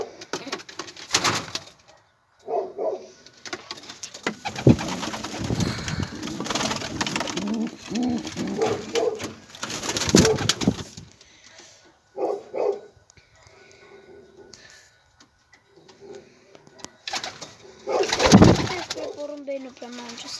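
Pigeons coo softly in bursts between quiet gaps, with a dog barking at moments and some rustling nearby.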